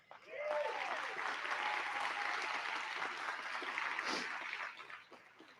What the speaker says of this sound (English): A round of applause for the filmmakers